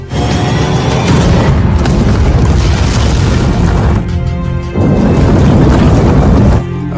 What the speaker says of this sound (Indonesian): Karena mereka akan meledakkan Bablu bersama kereta